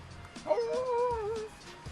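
Dogs out around a mountain near a camping spot let out a drawn-out, wavering howl-like whine with a yip at its start, somewhat distant and faint over quiet outdoor background.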